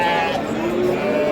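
A goat bleats at a livestock bazaar in Samarkand, one sustained, wavering bleat close by and fairly loud, with crowd murmur and voices underneath.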